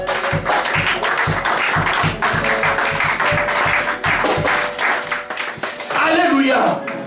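Church congregation at an evangelical service in Lyon clapping in a steady rhythmic beat, a dense continuous wash of hands filling the hall while voices call out over it.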